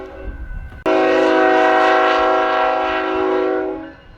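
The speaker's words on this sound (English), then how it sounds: "train's here." A loud train horn blares in one long sustained blast, close and dominant, fading out after a few seconds over rail noise.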